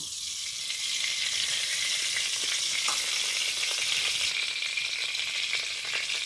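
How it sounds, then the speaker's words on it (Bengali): Oil poured into a hot wok after prawns were fried, giving a loud, steady close sizzle and hiss that carries on unbroken for several seconds with no talking. "এবার আমি কড়াইতে কিছুটা পরিমাণ তেল দিচ্ছি।"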